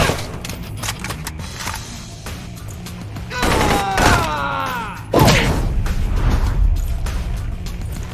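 Video game gunfire crackles in bursts of shots, louder in the middle and again toward the end, over a steady background of game noise.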